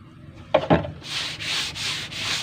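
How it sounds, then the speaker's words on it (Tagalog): Sandpaper rubs back and forth over hardened body filler in four steady, even strokes, close and clear, after a couple of brief knocks at the start. "Madali na siyang lihain, kumikinis pa pag in-applyan mo nito."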